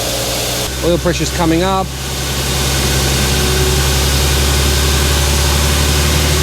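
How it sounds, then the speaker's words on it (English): Toyota Altezza SXE10 engine fitted with individual throttle bodies, idling high and steady just after starting, a loud continuous low drone that persists throughout while someone speaks briefly near the start. "Look at the idle on this thing. Way too high."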